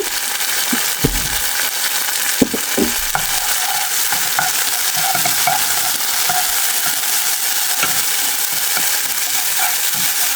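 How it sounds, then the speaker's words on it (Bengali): Whole cumin, onion, dried chilli and turmeric frying in hot oil, giving a steady close sizzle with scattered crackles and stirring scrapes, no voices. "মশলাটা ভালো করে ভাইজা নিছে"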